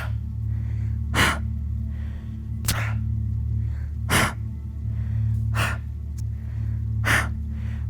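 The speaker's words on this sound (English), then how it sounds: "And then of course we add the breath." Forceful breaths during a yoga exercise with side-to-side torso throws, five sharp rhythmic exhalations spaced about one and a half seconds apart over a steady low hum.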